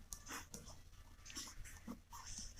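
A pen scratches across paper in short, close strokes with brief pauses between them, soft and intermittent, while a Hindi lesson is being written out.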